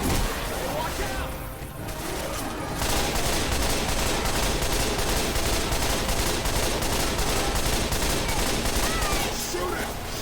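Dense, continuous gunfire from Left 4 Dead 2 fills the whole stretch, with rapid automatic bursts and crashing impacts and a voice speaking over the shooting.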